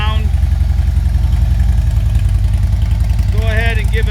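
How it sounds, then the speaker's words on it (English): A motorcycle fitted with S&S Power Tune dual headers idles steadily and loud up close, a deep, even throb throughout, with a voice speaking briefly over it near the end. "Okay, here we are with motorcycle running. It's way better than it used to be with the power and the sound."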